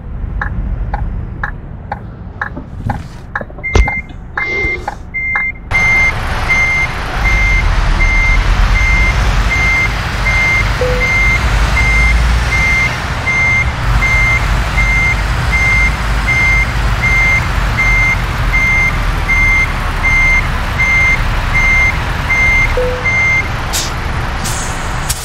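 A DAF XF 530 truck with a 12-speed gearbox parks up, its reversing alarm beeping in a steady, evenly spaced series over a loud, constant engine idle and road hum. A few sharp clicks and knocks come early, and no one speaks.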